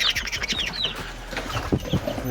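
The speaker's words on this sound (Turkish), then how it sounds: "Bunlar da tavuk civcivlerimiz." Chickens and chicks cluck and chirp close by in a coop in a busy, overlapping chorus, with soft rustling underneath.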